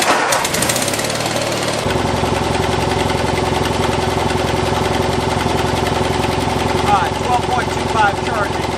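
Lawn tractor engine starting and running steadily, a loud, close, continuous rumbling drone with a rapid pulsing beat after an initial cranking burst.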